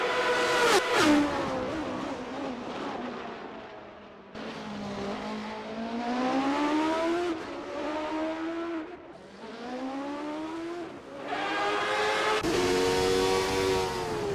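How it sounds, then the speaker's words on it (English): A Jordan 191 Formula 1 car in a racing video game screams around the Spa circuit, its high engine note rising through gears with sharp shifts and brief lifts, loud and continuous. "Narwhal is expertly commanding that car through Blanchimont"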